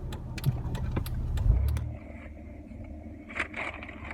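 Van on a test drive: a rumbling engine with clicks and jangles while moving, which settles to a quieter idle as the vehicle comes to a stop, no talk.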